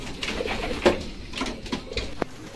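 Racing pigeons arrive and coo softly among rustling and fluttering, several birds close by with low throaty calls over a busy background during a training flight.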